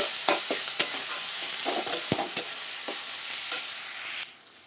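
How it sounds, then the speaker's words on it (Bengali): Green chilies frying in a poppy-seed masala for katla posto, a close, bright sizzle with scattered spoon scrapes and taps as it is stirred, stopping abruptly near the end and leaving quiet room tone. "আমি এবার কাঁচা লঙ্কাটা দিয়ে ভালো করে কষিয়ে নেব"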